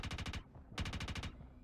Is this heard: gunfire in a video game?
yes